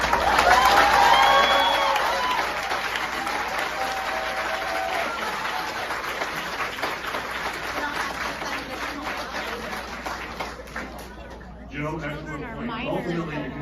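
An audience at a public meeting about a YMCA sixth-grade camp applauds and cheers, a dense wash of clapping that gradually fades as a speaker's voice and crowd chatter take over.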